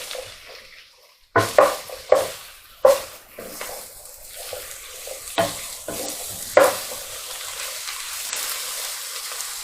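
Mushrooms frying in butter in a pan for beef stroganoff are stirred with a utensil, giving a series of sharp scraping strokes over a steady background sizzle, close and fairly loud.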